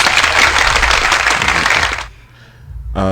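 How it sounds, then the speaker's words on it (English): Loud, dense applause on a podcast, likely a canned crowd effect, running about two seconds before cutting off abruptly, followed by a short quiet gap and the start of another sound. "You get a round of applause."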